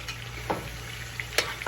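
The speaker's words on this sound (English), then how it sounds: "We're going to brown them real good on that side, and then we'll turn them over in a minute." Duck pieces sizzle steadily in a frying pan over a camp fire, with a constant close crackle broken by a few sharp spatters and light scraping of the pan.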